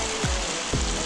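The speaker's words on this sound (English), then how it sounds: "And there is the rain." Steady rain falls during a camping stop in drought-stricken Oregon, a constant broadband hiss with two soft low thumps of heavier drops or gusts, close and continuous with no voices.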